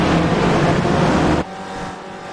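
Loud, harsh engine roar from a video-game racing car at full throttle on the Okayama Short circuit, abruptly dropping to a quieter rumble partway through.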